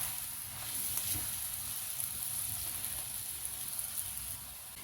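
A lauki paratha fries in ghee on a pan with a steady, close sizzle and hiss that holds at an even level throughout, with no voices.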